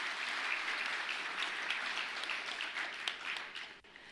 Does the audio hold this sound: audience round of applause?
yes